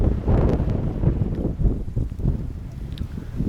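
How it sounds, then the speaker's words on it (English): Desert wind at Joshua Tree National Park near Barker Dam gusts across the microphone in a heavy, rumbling buffet, loud and close, rising and falling without pause, with no speech. "Gained some wind here."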